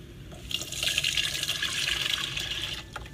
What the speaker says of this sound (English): filling with water